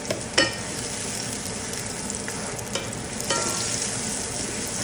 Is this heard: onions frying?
yes